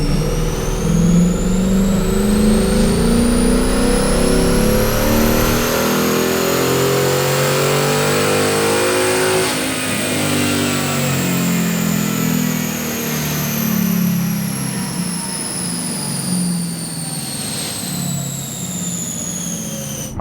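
A 2020 Mustang GT running E85 on a dyno makes a long, loud wide-open pull, its engine note climbing steadily in pitch for about ten seconds, then easing back down as it decelerates, with no talk over it.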